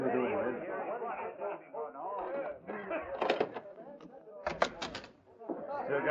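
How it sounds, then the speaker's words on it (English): A door opening effect in a 1952 Challenge of the Yukon radio drama: two short knocking, rattling bursts of wood and handle noise break through steady overlapping dialogue. "Open the door, Red."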